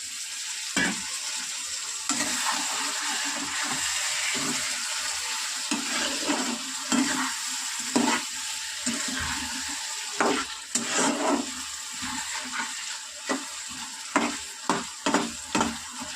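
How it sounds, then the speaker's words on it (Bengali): Hot water is added to a sizzling kadai pan, then stirred. A continuous close hiss of frying runs throughout, joined later by sharper scraping strokes of the spoon, with no voices. "এটা গরম জল, একটুখানি গরম জল অ্যাড করি।"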